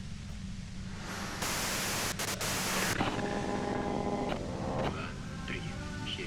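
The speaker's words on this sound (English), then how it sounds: "you can do it through the white noise" Radio static in the video game Disco Elysium hisses as a broad, steady wash of white noise, with brief crackles and faint tonal warbles mixed in.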